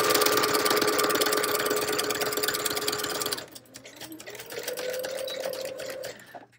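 A sewing machine stitches fabric onto a paper tag with no backstitch, running loud and steady for about three seconds, then slowing to a quieter, intermittent whir for the rest.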